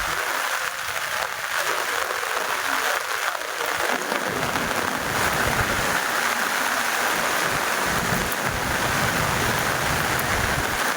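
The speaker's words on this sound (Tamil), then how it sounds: "பனக்குடி, ஏர்வாடி மற்றும் வள்ளியூர் பகுதிகளில் திடீரென மழை பெய்தது" A sudden downpour in the Panakudi, Ervadi and Valliyur area of Tamil Nadu, a steady loud hiss of rain that thickens after a few seconds and stays dense to the end, with no voices.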